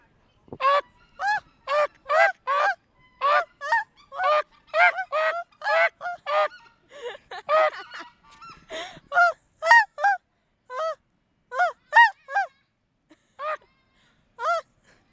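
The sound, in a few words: snow goose calls imitated with a goose call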